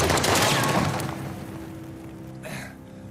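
A dense burst of gunfire in Uncharted: The Lost Legacy rattles loudly at first, then fades, with one more sharp crack near the end.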